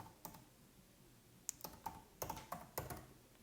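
Fingers tap a computer keyboard in a quiet room, a faint, irregular run of about a dozen light clicks that bunch together in the second half.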